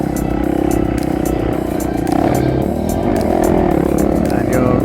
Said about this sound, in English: you're revving it and slipping the clutch to go around the corners there, just trying to keep the momentum up